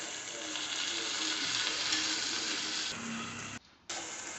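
Cauliflower pieces sizzle and fry steadily in a pan of oil for pesara pappu curry, a close, continuous crackling hiss that briefly drops out near the end before resuming.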